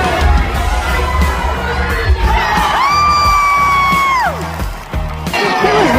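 Crowd at a card party event cheering and whooping loudly, with high excited shouts rising and falling over steady crowd noise and some talk.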